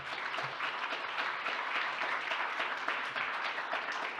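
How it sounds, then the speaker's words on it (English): Applause from a conference audience as speakers step onto the podium, a soft, continuous patter of many hands heard at some distance, steady throughout. "a fantastic ring of applause"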